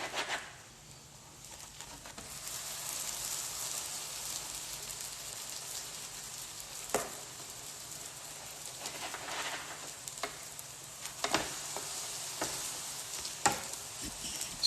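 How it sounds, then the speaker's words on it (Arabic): Tunisian mlawi flatbread fries on a grill, giving a soft, steady sizzle and crackle throughout, with a few faint clicks and no talking. "نطيب فيها على الشوايه"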